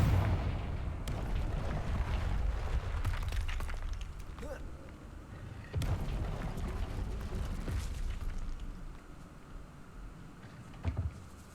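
Confringo explosive spell blasts in Hogwarts Legacy, three heavy booming bursts spaced several seconds apart over a steady rumbling game soundscape.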